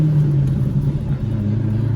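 A straight-piped Corvette Z06 idling with a deep, loud exhaust rumble, steady low burbling with a slight lurch and settle partway through, close by and with no voices.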